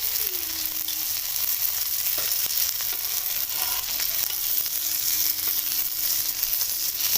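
Shami kababs frying in oil in a pan, a bright, continuous close sizzle with a few soft crackles and small scraping touches, no one speaking.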